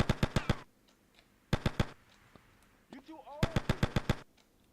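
Bursts of machine gun fire in GTA Vice City, three rapid volleys of close, loud shots separated by short gaps, with faint game sounds and a brief voice between them.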